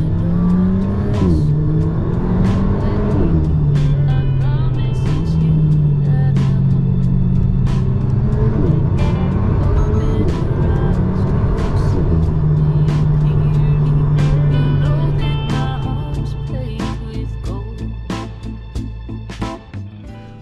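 Steady car engine hum with road noise throughout, driving at around 60 mph, the drone shifting in pitch as the vehicle changes speed, fading slightly near the end.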